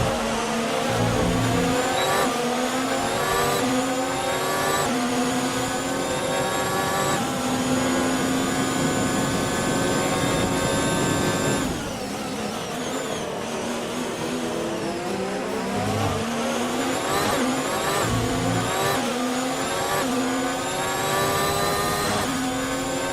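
Formula 1 car engine in the F1 2019 video game at the Austria race, DRS deployed: a loud, continuous high-pitched whine rising through gears with brief dips at shifts, alone throughout.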